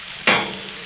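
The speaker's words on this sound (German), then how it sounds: "Dann packen wir hier noch hier auf unsere kleinen Gambas. Die mit der Kruste. Und einfach Öl ankippen." Oil poured over small crusted prawns on a grill sets off a sudden loud sizzle that flares up and then settles into a steady hiss.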